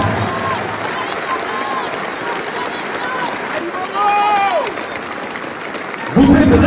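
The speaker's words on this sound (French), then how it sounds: "je vous demande de vous applaudir avec la plus grande puissance" A large crowd at a public gathering claps and cheers loudly and steadily, a dense wash of applause with crowd noise and some voices mixed in, swelling briefly louder near the end.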